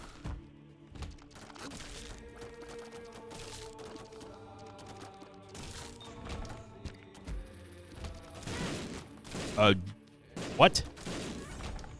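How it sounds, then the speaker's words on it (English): Ipecac tear explosions in The Binding of Isaac Repentance+, sharp bursts popping near the end over game music and mechanical effects, with someone briefly speaking. "That Ipecac tier detonated right on Isaac's face"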